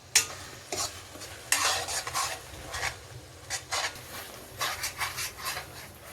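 Onion masala for chicken biryani sautéing in a pan, with repeated scraping strokes of a spoon and a soft sizzle underneath, close and steady with no talking.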